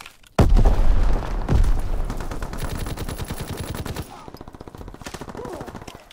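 Fighter plane strafing run during a Call of Duty WWII multiplayer match: loud bursts of heavy automatic gunfire with sharp booms at the start, then rapid rattling fire that fades into lighter distant shots.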